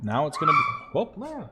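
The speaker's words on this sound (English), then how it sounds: "Excuse my dog." A dog yips and barks in short bursts at close range, mixed in with a person talking over it.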